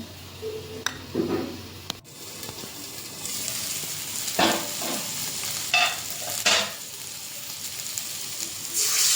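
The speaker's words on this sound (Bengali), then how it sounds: "মশলাটাকে জল দিয়ে গুলিয়ে নিচ্ছি।" Ground cumin, coriander and chili powder mixed with water in a bowl, a few scraping clinks of a spoon against the bowl over a low background hiss, without talking.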